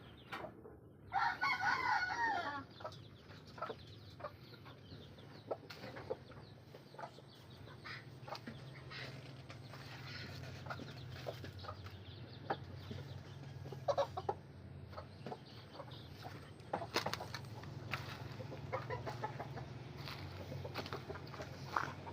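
Chickens cluck intermittently in a quiet yard, with a rooster crowing loudly near the start and scattered low clucks throughout.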